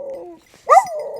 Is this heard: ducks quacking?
no